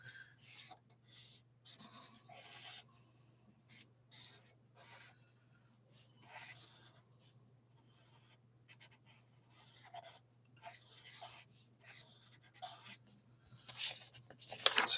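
Pen or pencil drawing symbols on paper, with scratchy strokes coming in irregular bursts and pauses, close and fairly quiet over a steady low hum, no talking.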